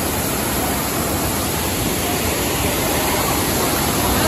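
Shirvane waterfall near Juinagar, Mumbai, roars in a steady, loud, dense rush of falling water that fills the whole clip without a break.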